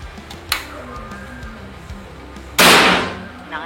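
Faint ticks and a murmur precede one loud, sharp shot from a GK Mini Gen 3 PCP air rifle that decays briefly, followed by a small click.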